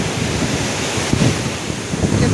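Fast, muddy brown floodwater rushes beneath the Naraj bridge after heavy rain, a loud continuous roar with gusty wind buffeting the microphone and a few heavier surges.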